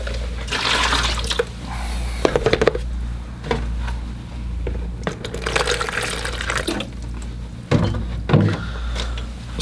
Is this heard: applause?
no